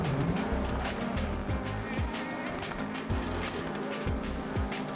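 WRC rally car at speed on a rally stage, loud engine revving continuously with repeated sharp gear-change drops and rises, close and dominant throughout.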